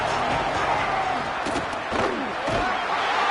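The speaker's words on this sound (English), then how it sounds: "This crowd ready to make its presence known." Dense roaring crowd noise fills a college football stadium at a Georgia versus Tennessee game, loud and continuous with rising swells of cheering throughout.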